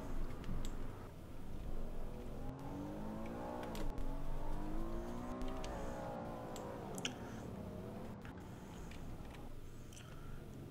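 Car driving in the Roblox video game, a steady engine drone with rising and falling revs as it accelerates and shifts, heard close and alone for about ten seconds.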